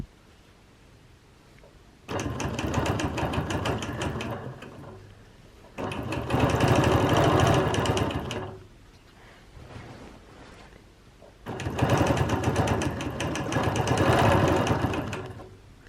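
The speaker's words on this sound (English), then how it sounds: "we'll just start by quilting one of these wavy shapes" A quilting machine stitches wavy edge-to-edge designs, guided along a wavy ruler, in three loud sustained runs of a few seconds each, separated by quieter pauses.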